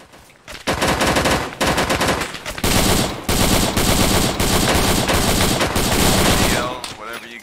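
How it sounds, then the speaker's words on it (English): Sustained automatic machine gun fire in the Vietnam War video game SOG Prairie Fire, loud, dense bursts running almost continuously for several seconds with brief gaps, a faint voice under the shooting. "everyone start shooting at that 50, that's priority"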